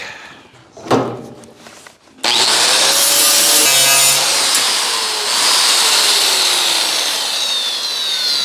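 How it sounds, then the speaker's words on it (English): Grinder working the welds on a 1967-72 Chevy truck steel door, a couple of brief scrapes and then a loud, steady, harsh grinding that runs on for several seconds, close up and with no talk. "make sure you're only grinding on the weld and not the steel"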